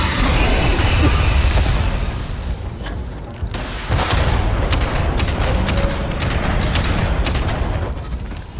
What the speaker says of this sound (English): She's got the grenade launcher, which is fantastic.